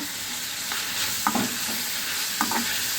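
Masala pulao ingredients frying in a pan, a soft continuous sizzle broken by a few scraping strokes of a spoon stirring, close and fairly quiet.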